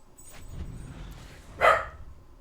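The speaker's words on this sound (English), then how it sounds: "What are you barking at now, man?" A dog gives a single sharp, close bark after a stretch of low background rumble and quiet noise.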